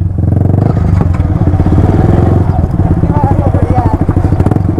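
A GT Continental motorcycle with gears that won't engage runs loud and close, its engine thumping in a steady, pulsing rhythm throughout, with rattling and clatter on top during a mountain ride to Panikot Lake.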